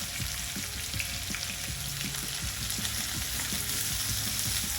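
Shallots, curry leaves and garlic fry steadily in a hot pan, giving a dense, continuous sizzle and crackle with occasional stirring clicks, close and without voices.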